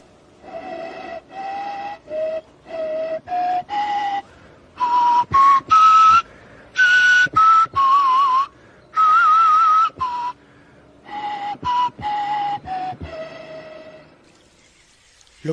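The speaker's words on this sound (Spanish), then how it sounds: "Lo que acaban de escuchar es uno de los primeros instrumentos musicales" An ancient wind instrument, one of the earliest musical instruments, plays a clear, breathy melody of short separate phrases, loud and close, then falls silent at the end.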